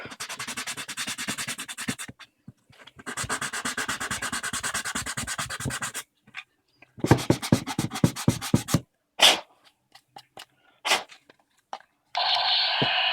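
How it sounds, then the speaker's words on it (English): Rapid back-and-forth rasping of a sanding block on a plastic toy gun, in several close bursts separated by short pauses and a few scrapes. "I'm going to take a sanding block."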